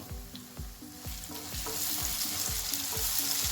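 A salted onion and tomato base cooks in a pan for a pea and potato curry, with a soft sizzle that rises, punctuated by repeated rhythmic scraping strokes of a spatula; no voices.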